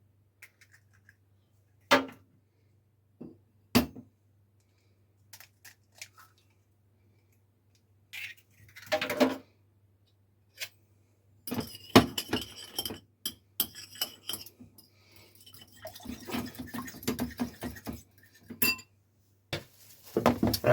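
Sparse glass clinks and knocks as two beaten eggs go into a meatloaf mix, first isolated taps, then a busier stretch of clinking, scraping and squishing close by, with no talking.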